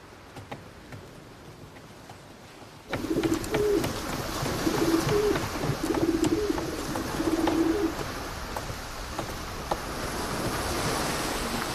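A pigeon on a boat out at sea coos in a short series of soft, repeated calls close by, over a steady wash of waves and ambient noise.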